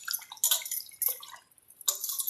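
Mutton pieces being washed by hand in plenty of water, with splashy dripping and sloshing in short bursts separated by brief pauses, close and fairly quiet.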